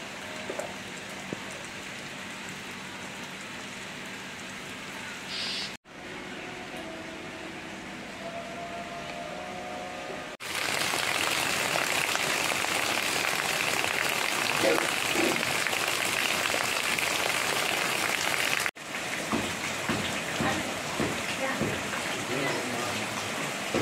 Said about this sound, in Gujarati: અડધી પોણી કલાક છે હે ને કન્ટિન્યુ હે ને વરસાદ ચાલુ હે